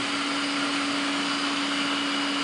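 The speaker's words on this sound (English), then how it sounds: "There's a screw inside that's picking the material up, the plastic up from the hopper." A plastic pipe extruder's feed screw turns steadily, drawing plastic pellets down from the hopper, producing a continuous loud mechanical whir with a steady tonal hum and no pauses.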